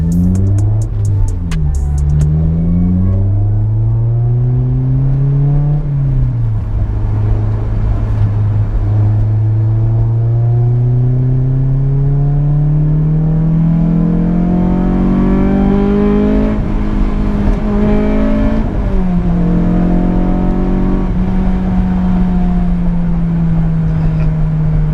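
Honda S2000 driving at night, its engine loud and continuous, the pitch climbing through the revs, dropping at a gear change and then rising again, with no voices.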